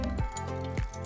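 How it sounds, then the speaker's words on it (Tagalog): About a cup of water poured into a container while making maja blanca, a short steady splashing trickle with two small surges, close and fairly soft, heard alone. "Lagyan natin siya ng kunting tubig."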